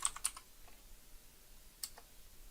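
Keys tapped on a computer keyboard in a few brief bursts of clicks near the start and again around the middle, faint and close, with quiet room noise between and no talking.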